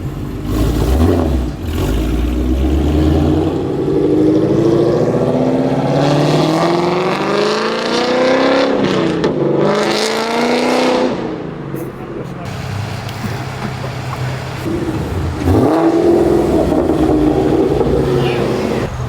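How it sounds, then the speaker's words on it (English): A Ford Mustang Mach 1 with Kooks longtube headers and full exhaust revs up and drops back several times, a deep roaring engine close by, with a rising and falling rasp. "it's got the full exhaust now from headers all the way back"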